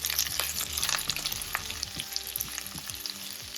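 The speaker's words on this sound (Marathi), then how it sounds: "आता कांदा तळून घेऊ" Chopped onion sizzling in hot oil in a pan, with garlic already browned, for a tomato pithla; a busy continuous crackle with scraping stir strokes, close and steady, no talking.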